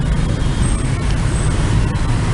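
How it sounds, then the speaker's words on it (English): Hanoi rush-hour traffic rumbles loudly and continuously nearby, a dense wash of engines and road noise with brief hisses and a faint high whine. "Hanoi is just absolutely insane, traffic wise, at rush hour."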